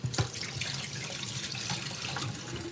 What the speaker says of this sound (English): And just wash my hand one more time.